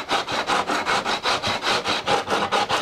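A tungsten carbide Permagrit file shapes the edge of a motorcycle fairing during an FZR restoration, giving close, rhythmic back-and-forth rasping strokes at about four per second with no talk.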